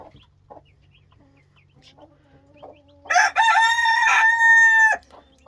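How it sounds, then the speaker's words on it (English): A broody hen just off her eggs in a warm coop lets out a loud, drawn-out harsh call for about two seconds, preceded by soft scattered clucks and quiet chatter of other birds. "That's the sound when they get off their eggs that they make."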